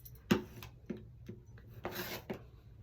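Rotary cutter run along a ruler to trim two sides of a quilt block made from jelly roll fabric strips, a few short, soft scraping strokes close by, fairly quiet.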